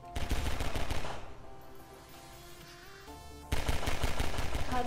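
Rapid shots from a pistol in a video game, loud and close at the start, fading to quieter noise in the middle, then a fresh burst of fire toward the end.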